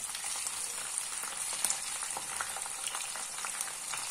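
Low-fat chicken longaniza sausages fry in a pan, giving a steady, fairly quiet hiss of sizzling oil with small crackles and pops throughout.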